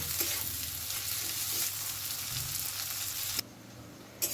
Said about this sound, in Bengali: ডিম ভাজার ওই তেলের মধ্যে কুচনো পেঁয়াজগুলো দিয়ে দিচ্ছি কুচনো পেঁয়াজগুলো কিন্তু বেশ ভালো করে একটু লাল লাল করে ভেজে নেব